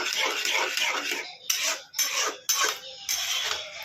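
A spoon scrapes and clatters through a potato and mushroom curry in a pan, in four or five broad strokes with short pauses between them, close and fairly loud with no talking.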